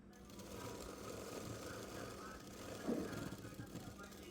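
Sewing machine stitching piping on a blouse, a faint steady mechanical hum and rapid needle rattle running continuously, with a brief louder burst near the end.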